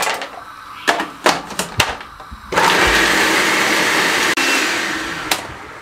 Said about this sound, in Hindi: इन सब चीज़ों को हम फाइन चॉप कर लेंगे।